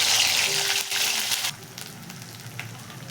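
Ground masala paste frying in hot oil with cumin for a spicy village-style misal varan, a loud steady sizzle for the first second and a half that then drops to a quieter crackle.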